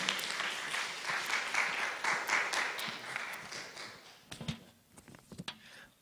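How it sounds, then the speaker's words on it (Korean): Church congregation at a Monday worship service applauds to welcome the pastor, warm sustained clapping that thins out into a few scattered, isolated claps toward the end. "목사님 나오실 때까지 큰 박수로 환영했으면 좋겠습니다."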